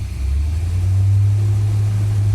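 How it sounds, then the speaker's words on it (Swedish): A Corvette engine, started in winter, revs lightly with a loud, steady low rumble close by and no voices. "När jag ökar varvtalet på motorn lite"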